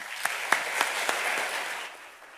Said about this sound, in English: how about a good round of applause